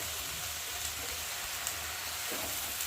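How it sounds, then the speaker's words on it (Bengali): Bottle gourd leaves frying in a pan with spices while being stirred, a steady soft sizzle with faint scraping, continuous and close throughout. "লাউ শাকগুলো দিয়ে দেবো। দিয়ে একটু ভালো করে নেড়ে দেবো,"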